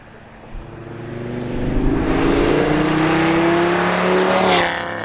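A 780 hp Audi RS3's 2.5-liter inline-five engine revs up steadily, its drone rising in pitch and holding loud before easing off near the end.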